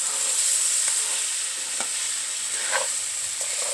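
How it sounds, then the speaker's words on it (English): Tomatoes, onions and carrots sizzle steadily in a pan as they cook down for a shepherd's pie, a constant close frying hiss broken by a few soft stirring taps. "Look at the vegetables cooking down."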